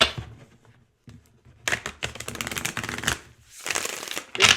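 Tarot cards are shuffled by hand in rapid riffling bursts, close and clear, with a short pause and then longer stretches of flapping and sliding cards, no talk.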